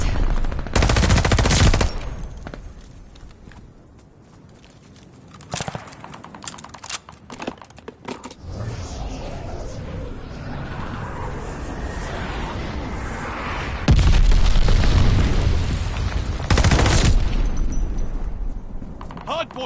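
Bursts of machine-gun fire and booming explosions from a strafing run in a Call of Duty match, loud and intermittent, with rattling mechanical noise and game voices in between.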